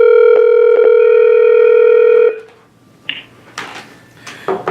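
An ESI ePhone4 desk phone plays a steady, loud tone for about two seconds, then cuts off, leaving short clicks and faint handling noises as a call to a second person is placed.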